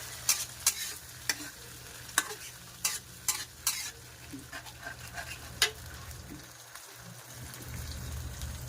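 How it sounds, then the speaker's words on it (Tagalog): A spoon stirs spaghetti sauce in a pan, giving a series of sharp scraping knocks at an uneven pace over a soft, steady sizzle, with no voices. "Haluin natin guys yan"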